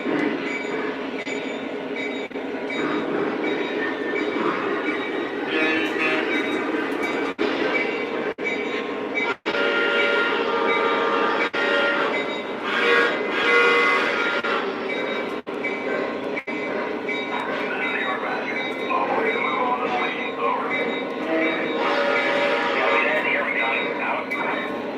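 Lionel and MTH model trains, including a T1 locomotive, rumble steadily around a layout with a continuous whirring drone and some sharp clicks. Speech is heard under the running train.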